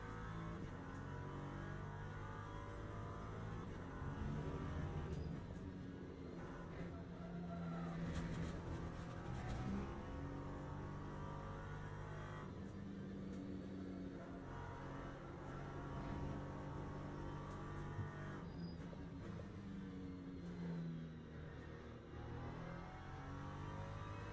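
An LM3 race car engine in the game Le Mans Ultimate drones steadily throughout, rising and falling in pitch as it accelerates and lifts through a race, heard alone at a low level.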